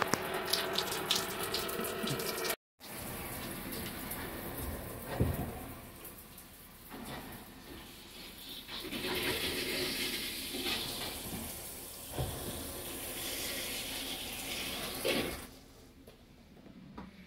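Hot and cold water running from an RV shower while pink antifreeze is flushed through the lines, a steady hiss and splatter with a brief dropout early on, then continuing spray with shifting intensity, close and moderately loud, no talking.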